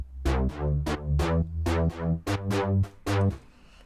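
A raw, unprocessed high synth bass for EDM house plays a punchy rhythmic riff of about a dozen short, bright, buzzy notes with sharp attacks and quick decays, loud and upfront with no speech.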